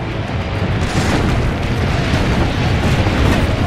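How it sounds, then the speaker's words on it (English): Cannon fire in the Assassin's Creed video game: a loud, dense, rumbling blast that roars continuously throughout, with heavy low-end boom and no speech. "Load the cannon."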